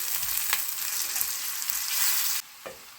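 Kashmiri chilli powder sautéing in hot oil in a pan, a steady close sizzle with a few brief stirring scrapes, cutting off abruptly near the end before a last faint clink.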